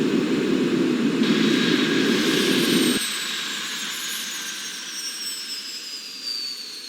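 Jet airliner engines roar loudly in a flight game while taxiing with reverse thrust, a broad steady rumble that drops abruptly partway through to a quieter whine with high tonal sweeps, no voices.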